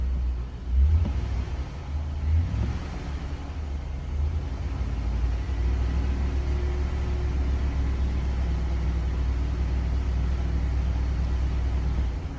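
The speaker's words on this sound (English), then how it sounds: "Let's see what happens if I give it a little gas." A truck engine with a sudden oil pressure drop rumbles at a low steady idle, swelling briefly with a couple of short revs early on before settling back into a constant, close drone.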